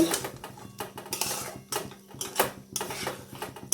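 Pointed gourds stirred in a pan with a ground paste of chilli and white sesame: rhythmic metallic clanks and scrapes of a utensil against the pan, close and repeated.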